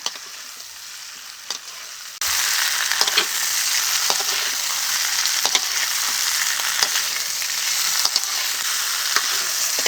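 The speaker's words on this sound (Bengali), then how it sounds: "এখন ফুলকপি ও আলুটাকে মশলার সাথে ভালো করে কষিয়ে নেব" Potatoes and cauliflower fry with spices. After a couple of quiet seconds, a loud, steady hissing sizzle bursts in and holds, broken by intermittent clicks and scrapes of stirring.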